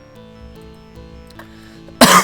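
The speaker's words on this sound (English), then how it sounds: "I'm actually doing really well, that's my first cough so far." A single sharp, loud cough near the end breaks through quiet sustained tones of background game music from a classic-style first-person shooter.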